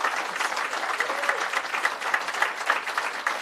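A big round of applause from an audience at the opening of a restaurant, steady dense clapping sustained throughout, fairly loud and close with no talk over it.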